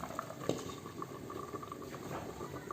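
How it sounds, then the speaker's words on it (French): Pumpkin and carrot soup simmering gently in a covered pot, a soft steady bubbling with faint intermittent pops and a brief louder blip, heard alone at low level. "je mets le couvercle, je baisse le feu et je laisse la soupe cuire"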